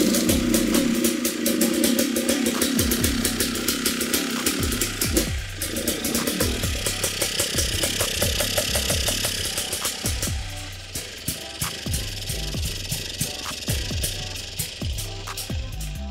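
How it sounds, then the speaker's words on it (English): A dirt bike engine starts and runs in a workshop, a sharp, rapid two-stroke-like popping idle that stays loud and close before settling into a slightly lighter, uneven putter. "So we're going to get the bike started."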